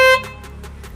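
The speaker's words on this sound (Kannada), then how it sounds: "ಇನ್ನೊಂದು ಟೈಮ್ ಹೊಡೀರಿ ಹಾರನ್." A Maruti Swift car horn sounds one short, loud, close blast that cuts off quickly, leaving faint background hum and soft repeated noise bursts.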